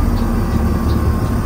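A front-engined Mercedes-Benz 1623 bus climbs a hill in second gear, its engine a loud, steady low drone with a constant whine running over it.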